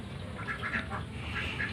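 Ducks quack repeatedly over a dense, noisy farmyard background, the calls moderately close and overlapping, with no speech.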